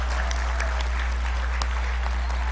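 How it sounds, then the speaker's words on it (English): A crowd at an Islamic Center event applauds the children of Al-Hikmah School, a continuous wash of clapping over a steady low electrical hum, with no break. "One more round of applause for these beautiful kids."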